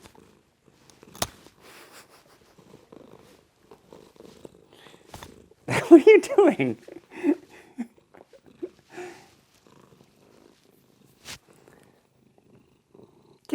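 Domestic cat purring close by in a room, a soft continuous rumble swelling around the middle of the stretch, with a person speaking briefly over it and quieter handling noises around.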